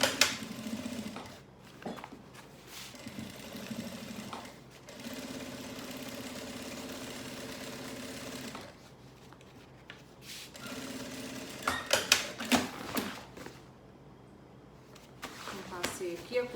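A sewing machine stitches a seam along the side of a lab-coat holder, running in several sustained bursts with short pauses between them.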